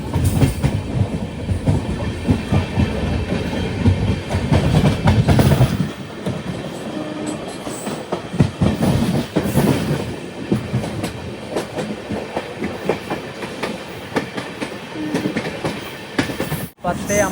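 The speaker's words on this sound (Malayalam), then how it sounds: "ട്രെയിൻ ഇപ്പോൾ ജോളാർപേട്ട റെയിൽവേ സ്റ്റേഷനിലേക്ക് എത്തുകയാണ്" The Erode–Jogbani Amrit Bharat Express rolls into Jolarpettai Junction, heard from on board: a loud, continuous rumble of wheels with rhythmic clickety-clack over rail joints, easing off midway, and a sharp click near the end.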